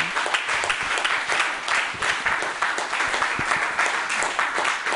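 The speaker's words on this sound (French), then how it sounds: "Applaudissez Jéhovah, alléluia" A church congregation applauding during a French-language sermon, steady dense clapping that holds at an even level throughout, with no voice over it.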